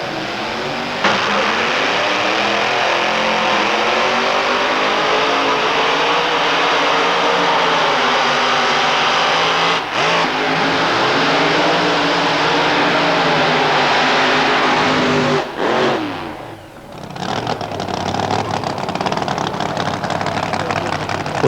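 Drag racing cars including a Corvette, a loud sustained engine roar with rising and falling revs across the run, close and dominant, easing briefly near the end before building again.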